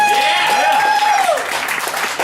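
Audience applause at a stand-up comedy show, a dense wash of clapping filling the room for about two seconds, with a high whistle or cheer riding over it early on before tapering slightly.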